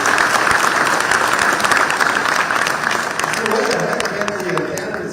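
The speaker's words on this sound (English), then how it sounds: "cheering and jeering." A crowd at an Iowa caucus event applauds and cheers loudly and continuously, a dense wash of clapping with voices mixed in that eases slightly near the end.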